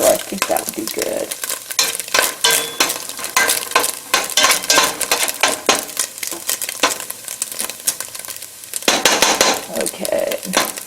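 Canadian bacon frying in a pan for smoky collards with chickpeas: loud, constant sizzling close up, with repeated scraping and clanking of a utensil stirring against the pan, no talk.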